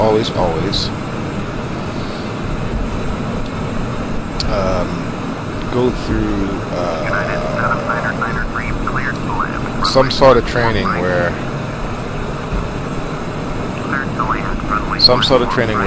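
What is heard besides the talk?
airplane engine in Microsoft Flight Simulator X video game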